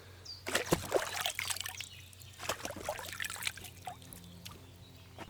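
Splashing and trickling water as a character washes off in Kingdom Come Deliverance 2, heard as irregular sloshes and dribbles of moderate loudness against a low steady hum, with no talking.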